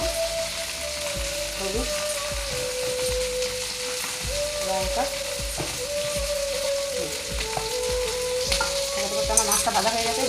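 Onion, mustard paste, tomato, turmeric and chilli sizzle steadily in a pan, with regular clinks and scrapes of stirring throughout and someone speaking briefly over the frying.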